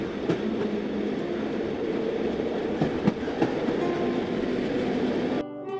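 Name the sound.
train running on rails, cartoon effect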